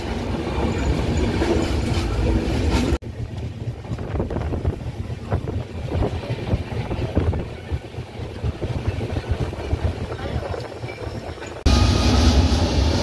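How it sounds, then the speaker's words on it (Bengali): A local passenger train gathering speed, its rumbling clickety-clack and wind rush heard from on board, with a sudden drop in level as the sound changes midway, then swelling back. "এখন ট্রেনের স্পিডটা বাড়িয়ে দিয়েছে।"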